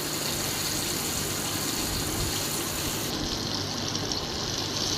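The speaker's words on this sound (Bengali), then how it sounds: "চিকেন ফ্রাইগুলো কর্নফ্লাওয়ারে মেখে তারপর আমি গরম তেলে ভাজবো এখন।" Chicken pieces coated in cornflour frying in hot oil, a dense, continuous sizzling hiss that stays loud and even throughout with no talking.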